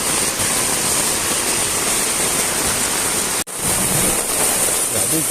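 Heavy rain pours down in a steady, loud, roaring hiss that continues almost unbroken, with a brief dropout partway through.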